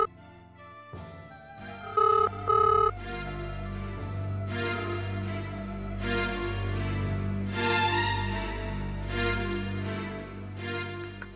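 A telephone rings with a melodic ringtone, repeating in steady phrases over a sustained musical backdrop at moderate volume.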